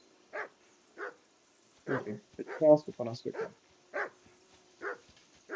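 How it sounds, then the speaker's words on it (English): In Kingdom Come: Deliverance II, a dog barks in short, evenly spaced yaps at moderate distance, briefly overlapped by a spoken line in the middle. "I assume you can hear that damn dog of yours barking."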